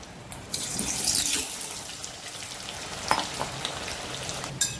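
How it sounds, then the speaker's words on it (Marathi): Potatoes dropped into hot oil in a kadhai on a gas stove set off a soft, bubbling sizzle with a few sharp spattering pops scattered through, heard close and without talk. "गॅसवर कढईत तेल ठेवलं आहे मी तेल आपलं चांगलं तापलं आहे त्याच्यात आता हे बटाटे सोडते मी"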